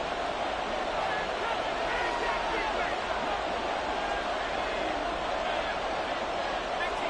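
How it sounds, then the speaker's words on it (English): Steady stadium crowd roar in the Madden 24 football video game, building ahead of a big third down, with a commentator talking over the continuous, even wash of cheering. "The crowd getting into it as we come up on a big 3rd down."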